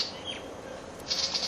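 A butcher bird calls with a few short, clear whistled notes, faint and somewhat distant against quiet outdoor background.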